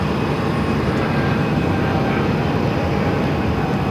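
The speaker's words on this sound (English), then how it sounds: "Southwest Flight 2737 coming in from Dallas on a" Southwest Boeing 737-700 airliner arriving at Phoenix from Dallas, a loud, steady jet roar with faint tonal whine, continuous and close.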